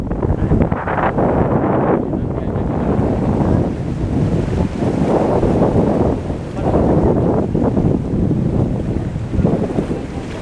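Waves and gusting wind at Goa Cina beach, a broad, continuous roar of surf that surges and ebbs, heavily buffeting the microphone throughout.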